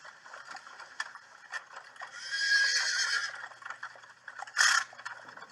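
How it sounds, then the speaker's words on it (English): On a snowy Victorian-style street at night, a horse whinnies loudly and close by as hooves clop past, ending in a second short, sharp neigh. "After almost getting run over by a horse"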